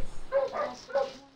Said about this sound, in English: Fucking dumb dog.